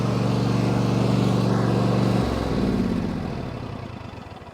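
A Cub Cadet LT46 XT1 Enduro Series lawn tractor engine idling far too high, a loud steady drone close by that shifts pitch partway through and then fades gradually, with no talk.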